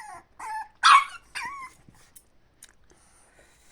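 French bulldog puppies let out several short, sharp barks and yips close by, in quick bursts followed by faint whimpers and quiet.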